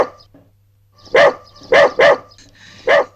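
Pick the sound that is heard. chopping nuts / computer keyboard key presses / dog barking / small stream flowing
dog barking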